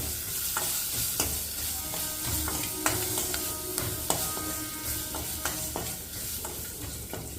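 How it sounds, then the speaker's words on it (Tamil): Curry leaves and slit green chilies sauté in hot oil for a South Indian rasam, giving a continuous crackling sizzle broken by the scrape and clink of stirring, close up with no voices. "இது எல்லாத்தையும் நல்லா வதக்கி விட்டுக்குங்க."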